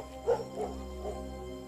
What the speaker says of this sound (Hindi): मुसलसल कुत्ते के भौंकने की आवाजें आ रही हैं।